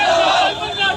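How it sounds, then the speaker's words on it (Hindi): Hundreds of students at a protest rally, a loud dense roar of many voices shouting together, close and continuous for a brief moment. "आप देखिए स्टूडेंट और यहाँ सैकड़ों की भीड़ है"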